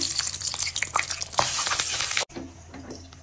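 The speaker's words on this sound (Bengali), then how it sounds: "তো ডিমটা এখন ভেজে নিচ্ছি।" Beaten eggs with green chilli and onion fry in a pan, giving a close, steady hiss with crackling spatters, then a sudden drop to a quieter, softer sizzle.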